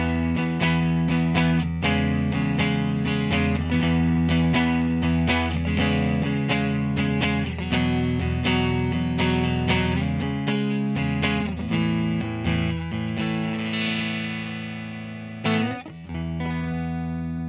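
A 2021 Fender Final Fantasy XIV Stratocaster electric guitar played through distortion and chorus effects, chords and single notes ringing out loud and close, fading at the end.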